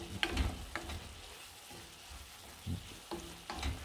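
Garlic and tuna frying together in a pan for pasta, giving a quiet, steady sizzle broken by a few sharper stirring scrapes and clatters at irregular intervals, with no voices.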